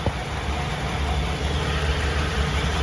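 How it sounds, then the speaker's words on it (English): A car engine idles steadily while parked during a pre-purchase inspection, a low continuous rumble holding even and unbroken throughout with no one talking. "It's good to let the engine run"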